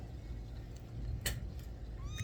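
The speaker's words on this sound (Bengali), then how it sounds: "এটা আমার হচ্ছে বিড়াল, ঠিক আছে?" A small kitten in an apartment in Saudi Arabia gives a brief, faint meow near the end. Quiet room hum surrounds it.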